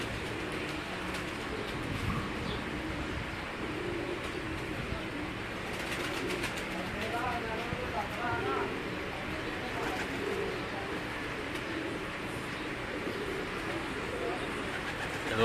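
Lahore pigeons coo softly in a loft, repeated low murmuring calls over a steady background hum, with a voice occasionally talking nearby.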